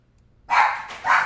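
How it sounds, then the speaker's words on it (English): Dogs bark twice in quick succession, two short clear barks close by after a moment of quiet. "Bunch of dogs barking."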